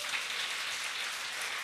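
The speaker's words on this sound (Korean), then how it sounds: "박수 안 나옵니까?" Dense, steady applause from a church congregation during a Sunday worship service, a brief continuous wash of clapping with no voices.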